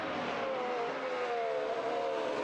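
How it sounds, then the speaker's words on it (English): A 2026 Formula 1 race car engine sounding at a track, a steady high-pitched whine with slight pitch drift, moderately distant and continuous with no talk. "Definitely going to hear these cars on your way into the track"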